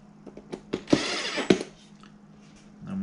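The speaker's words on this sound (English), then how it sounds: "We'll just tighten a couple of those screws." Screws are tightened by hand on a Triton 3 1/4 router during a plunge shaft replacement, giving faint clicking, ratcheting metal ticks and a few brief sharper knocks over a low steady hum.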